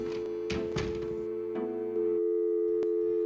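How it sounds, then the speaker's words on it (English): A stuck telephone dial tone from the Gabriel Knight: Sins of the Fathers game hums steadily throughout, with a few thumps and clicks on top and a brief synthetic burst partway through. "I can still hear the dial tone."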